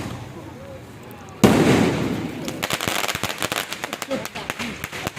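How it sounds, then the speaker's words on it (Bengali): Firecracker bombs bursting at a wedding celebration, a sudden loud blast followed by a rapid crackling string of pops that thins out over several seconds, with voices in the background. "আমরা একটা বম ফোটা শুরু করি। দেখি হ্যাপবাইকের বমটা কীরকম।"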